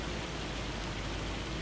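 Hail falls steadily in a farming video game set in Arkansas, a dense, even hiss of tiny impacts with no break and no talking.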